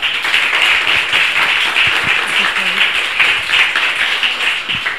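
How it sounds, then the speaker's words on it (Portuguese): An audience at a tech meetup applauds a speaker named Júlia as she takes the stage, with steady, moderately loud clapping from many hands throughout. "Salva de palmas para a Júlia."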